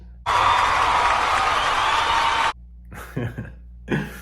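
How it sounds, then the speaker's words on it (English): An audience at a prison poetry reading bursts into loud, dense applause for a standing ovation. It holds steady for about two seconds, stops abruptly, then a voice speaks briefly. "Now all my fellas stand and give these ladies a standing ovation."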